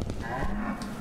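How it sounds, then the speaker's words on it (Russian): A single cow moo in the Suicide Guy video game, a short low bovine call heard close and clear, with no talking over it. "Грамотно размещаем корову, значит."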